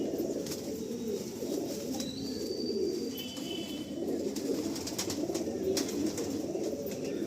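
Many pigeons in a loft coo in a continuous, overlapping low murmur, with occasional faint chirps and a few soft flutters on top.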